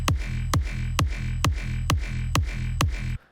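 The sub bass layer of a big room kick drum thumps eight times at an even, quick tempo, each hit a deep booming punch with a sustained low tail, before cutting off.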